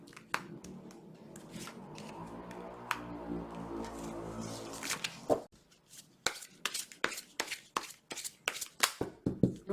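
Romantic angel oracle cards are shuffled up close with a soft fluttering riffle, then a run of crisp taps and clicks as cards are squared and drawn.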